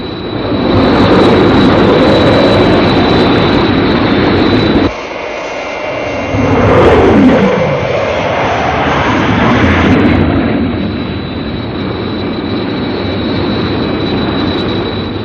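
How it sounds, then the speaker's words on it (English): A jet aircraft from the 1967 Captain Scarlet television series roars loudly and steadily overhead, its pitch sweeping down midway as it passes, set against a continuous high whine. "Have visual contact with Captain Scarlet's jet"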